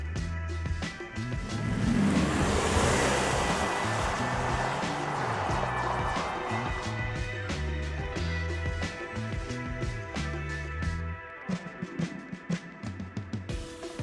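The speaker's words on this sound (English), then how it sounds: "And that's electric acceleration, remember." A 2020 Porsche Taycan Turbo electric car accelerating hard, a smooth rising electric whine over strong road and wind rush that swells, holds loud, then eases off near the end.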